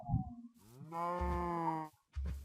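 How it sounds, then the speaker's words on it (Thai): A cow in the Minecraft video game lets out one drawn-out, tonal moo, close and clear, with short low thumps before and after it. "มานี่แล้วเจ้าวัวน่ารัก"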